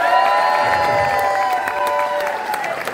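Concert crowd in Bergamo applauds and cheers after a song, dense clapping mixed with shouts and whistles over lingering tonal sound, sustained for three seconds.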